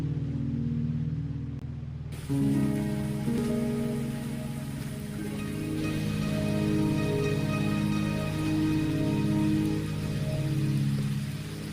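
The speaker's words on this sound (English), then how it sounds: "Are you trapped here by the rain?" Rain falls in the Wuthering Waves video game, a steady, soft hiss of drops that sets in after a brief quiet opening, layered under sustained background music with no voices.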